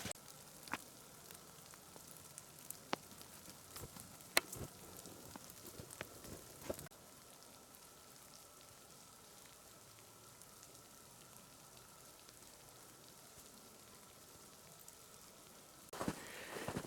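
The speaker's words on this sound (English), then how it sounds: "12 hours of rain will really wreck these trails." Steady rain patters and hisses across a surface for a long stretch at a winter campsite, with occasional louder drips and taps standing out.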